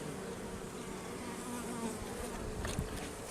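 Honeybee swarm covering four frames in a weak hive during an inspection, a dense steady buzzing close by with faint extra clicks and knocks near the end.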